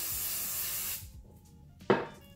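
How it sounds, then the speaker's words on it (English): Hairspray sprayed onto styled hair, a steady close hiss lasting about a second, then a pause and a second short burst. "So now I'm just gonna spray some hairspray."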